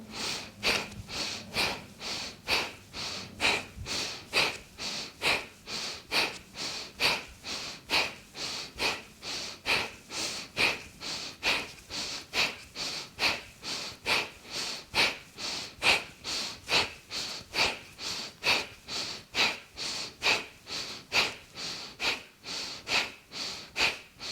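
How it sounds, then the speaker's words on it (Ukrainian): During a yoga rib exercise, a person breathes in a steady, rhythmic cycle of audible inhales and exhales, repeating evenly for over twenty seconds, close and clear with no talking over it. "Знову плавний вдих, плавний видих."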